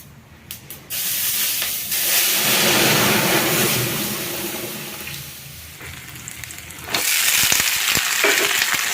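Dried chillies and panch phoron spices hit hot oil with a loud, steady sizzle and hiss, rising sharply at the start and again near the end, with a few clinks of a utensil.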